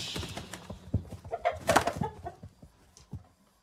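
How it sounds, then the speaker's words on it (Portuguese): Fighting roosters cluck and call in a short burst of rough, overlapping fowl sounds, loudest in the middle and trailing off, with no talk. "esses aqui são galos combatentes"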